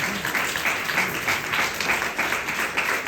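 An audience applauds at a yagna ceremony, a steady wash of clapping from many hands at moderate distance, even and continuous without a break for the whole short stretch.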